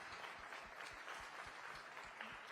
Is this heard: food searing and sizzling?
no